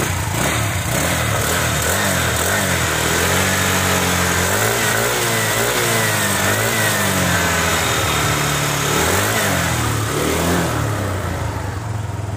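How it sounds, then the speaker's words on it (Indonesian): A Kymco Racing King 150cc FI motorcycle engine revs up and down in repeated waves, loud and close, with a steady idle underneath and no talking. "Coba guys ya mesinnya. Seperti ini."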